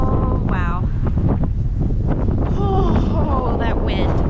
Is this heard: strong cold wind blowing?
yes